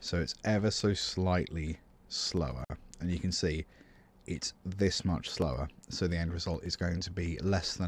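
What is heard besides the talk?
No everyday noise stands out behind the speech.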